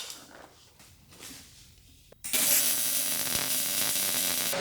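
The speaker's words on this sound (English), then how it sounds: "I think the next phase is to weld a nut on there." An arc welder fuses a nut onto a stuck jet ski bolt, beginning after some quiet shop noise with a sudden loud, steady crackling hiss that continues unbroken for the remaining couple of seconds.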